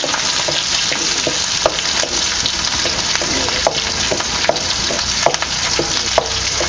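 Green chilies and garlic sautéing in a hot cumin tempering in a kadai, a loud dense crackling sizzle with repeated sharp spatula scrapes and clicks throughout.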